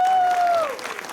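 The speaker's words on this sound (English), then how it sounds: "A round of applause," Audience at an Indian High Commission reception in Canberra for the India cricket team gives a round of applause, a brief burst of clapping under a sustained tonal whistle or feedback that slides downward and fades.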